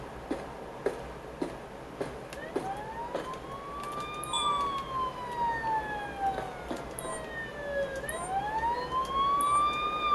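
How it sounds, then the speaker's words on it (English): In a video game, an ambulance siren wails in rising and falling sweeps at moderate volume, set against a soft background hum and scattered light clicks. "I need an ambulance."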